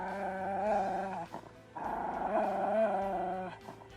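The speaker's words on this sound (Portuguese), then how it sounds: "o cachorro começa a rosnar" A dog growls in the horror video game Silent Hill 2, a low snarling rumble in two long pulses with a short break between, close and prominent over faint background ambience.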